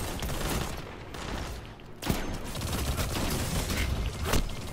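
Shotgun fire in a multiplayer video game comes through as a dense, fairly quiet clatter of overlapping shots, with a sharper blast near the middle and another toward the end.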